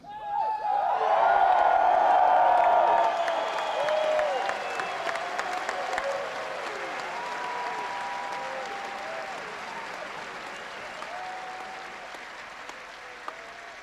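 A large crowd of West Point graduates at the 1997 commencement stands, applauds and cheers, a loud swell of clapping with whoops that peaks early, then eases into sustained, broad applause across a big outdoor venue.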